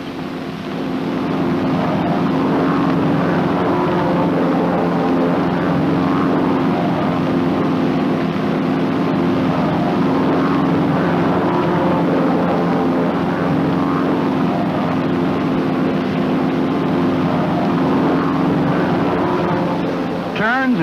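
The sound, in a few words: North American T-6 Texan aircraft flying in formation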